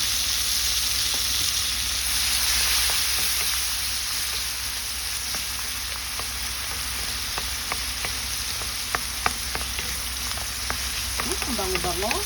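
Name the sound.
sautéing chili and tomato for green beans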